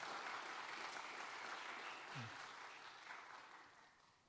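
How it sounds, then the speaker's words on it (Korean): A church congregation applauds together at a Wednesday service, a faint, even wash of many hands that slowly tapers off toward the end. "우리 다 같이 박수로 격려하겠습니다."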